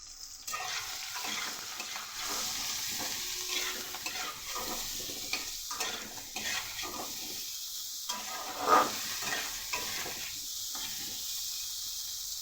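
Boiled jackfruit seeds with salt and turmeric stir-fry in a pan, a steady soft sizzle broken by repeated scraping strokes of a spatula, close and even throughout with no talking.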